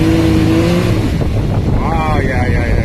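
A Can-Am Maverick X3 XMR 2020 turbo UTV of 120 hp accelerates with a loud, close engine roar that climbs in pitch, then drops and rises again as it revs.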